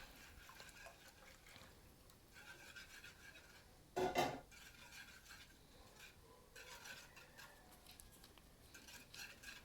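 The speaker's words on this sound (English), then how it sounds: "slowly add the milk, stirring gently as you can see to combine with the butter" Milk being stirred into melted butter in a pot, faint soft scraping and swirling of a utensil against the pot, with one brief louder clatter partway through.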